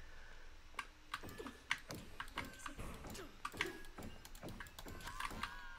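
Rapid, irregular keystrokes on a Redragon Fizz K617 60% RGB magnetic switch gaming keyboard during gameplay, a steady run of light clicks and clacks close to the microphone with faint game sounds underneath.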